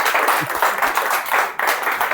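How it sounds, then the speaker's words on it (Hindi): A seminar audience at a direct-selling business training session gives loud, steady applause. The clapping is dense and continuous, with brief swells, and no one speaks. "बहुत बढ़िया, जोरदार तालियां हो जाएं"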